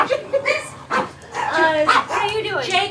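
Dogs bark and yip with whiny, whimpering tones, close and fairly loud, mixed in with people talking at an animal shelter.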